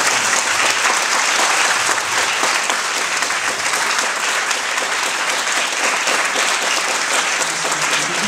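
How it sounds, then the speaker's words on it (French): A festival audience at a closing-night event gives volunteers loud, sustained applause, a dense, even wash of clapping from many hands that holds steady throughout. "je vais vous demander d'applaudir très vigoureusement"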